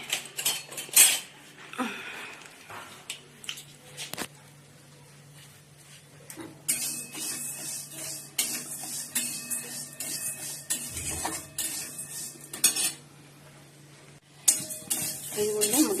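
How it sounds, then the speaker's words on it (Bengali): Dishes, pots, pans and cutlery clatter and clink as they are picked up in a home kitchen, with repeated bursts of metallic rattling and a few pauses, fairly close. "বাসনগুলো তোলা হয়নি বাসনগুলো তুলবো"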